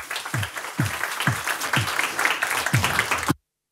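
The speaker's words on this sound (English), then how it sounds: "Big round of applause for you" At a seminar on the future of retail, the room gives a speaker a round of applause. Steady clapping runs under regular low thumps and cuts off abruptly.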